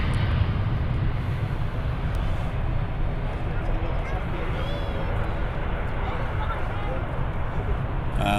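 A TUI airliner takes off at Manchester Airport, its engines a loud, steady broadband roar that holds without a break from start to finish.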